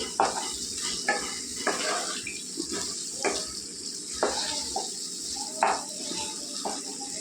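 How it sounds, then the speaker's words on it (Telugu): Small fish pieces (katta paragalu) for a tamarind pulusu are stirred while cooking in oil in a pan. A steady close sizzle plays with regular spoon scrapes and light metallic knocks every second or so. "ఒకసారి ఇలా కలిపేసుకుంటే బాగా నూనెలో ఉడుకుతాయండి"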